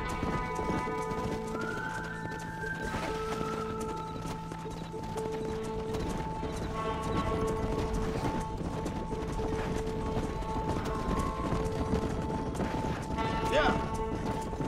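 Horses clip-clopping steadily while driving cattle in Red Dead Redemption, hoof beats continuous under game music and ambience, with a brief whinny; people talk over the scene.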